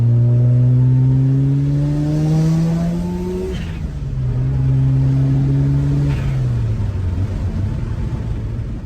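A 1995 Mazda FD RX7 with a rotary engine at a Cars & Coffee meet, revving loudly and close by, with rising pitch sweeps that climb, drop back during shifts and climb again, with no talk over it.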